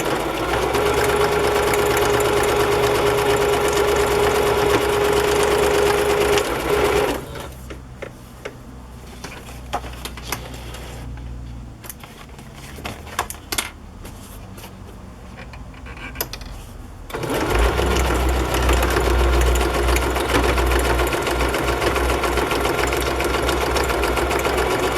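A sewing machine sews across the tops of fabric journal pages in a loud, steady run, stops for about ten seconds of near quiet with small clicks and handling, then starts up again and runs to the end.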